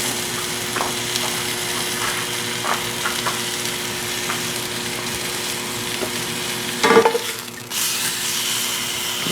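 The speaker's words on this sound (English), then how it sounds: "Don't ever forget about the sides of your steak. You want to get that seared too." A porterhouse steak sears in a hot pan with its sides pressed down, giving a loud, steady, close sizzle and a short clatter of handling near the end.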